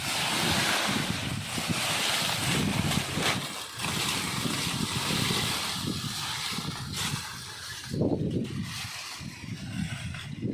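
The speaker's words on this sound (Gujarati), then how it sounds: "અત્યારે હજી ભૂર પવન ચાલુ છે" Strong March wind blows in gusts across a farm, roaring and buffeting close by, swelling and easing over several seconds with no voices.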